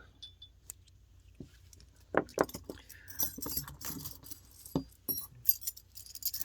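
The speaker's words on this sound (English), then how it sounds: "You can hear the clinking, so part of those, we call them the chimes or the needles." Small hard stone needles of dark crystals such as black tourmaline clink and tinkle against each other in light, irregular taps, close by and fairly quiet, with no speech.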